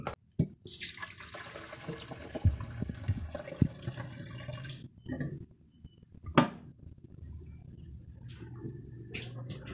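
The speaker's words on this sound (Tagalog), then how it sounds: "Lalagyan natin ng tubig." Water is poured into an electric kettle under repair, producing a close, continuous splashing and trickling with a few clunks and knocks of handling, fading near the end.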